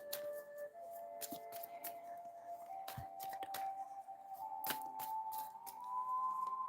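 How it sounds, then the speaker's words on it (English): Tarot cards are shuffled by hand, giving a run of quick, soft papery flicks and snaps that are close and fairly quiet. "Okay, let's get a good shuffle."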